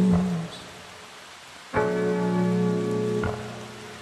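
Steady rain patters softly in the background beneath slow, reverb-heavy music, with sustained tones swelling over the continuous hiss of falling rain.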